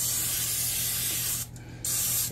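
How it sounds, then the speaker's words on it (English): A steady hiss of an aerosol olive-oil spray, broken by a brief pause before the spraying resumes, close and fairly loud. "Use the spray olive oil"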